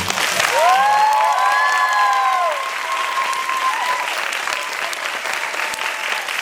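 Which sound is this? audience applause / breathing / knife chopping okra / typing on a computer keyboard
audience applause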